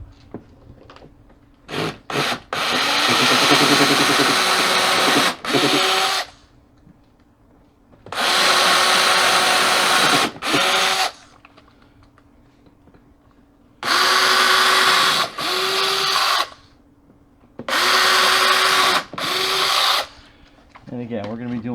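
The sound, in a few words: power drill pre-drilling holes for baby gate mount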